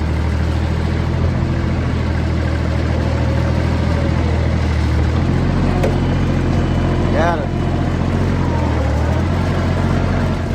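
A farm tractor engine runs steadily with a constant loud, low rumble throughout, with faint mechanical squeaks over the top, close up.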